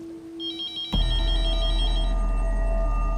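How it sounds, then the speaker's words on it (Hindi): A landline telephone rings with a fast trilling electronic bell, several repeated pulses that are loud and close, while a low background hum continues after the ringing stops. "Landline phone?"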